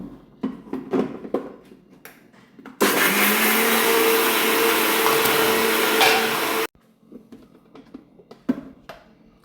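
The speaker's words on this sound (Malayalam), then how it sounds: "ഇനി അരച്ചെടുക്കാം." An electric mixer grinder runs loud and steady for about four seconds, grinding a smooth batter for pancharapatta sweets, starting and stopping abruptly between quieter bursts of kitchen handling noise.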